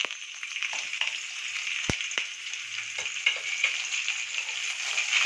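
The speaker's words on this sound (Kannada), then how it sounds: "ಇದೆಲ್ಲ ಫ್ರೈ ಮಾಡ್ಕೊಳ್ಳೋಣ." Garlic, ginger, green chillies, black pepper, cinnamon, cloves and onion fry in a pan for a vegetable biryani, giving a steady bright sizzle with a few close taps and stirring scrapes.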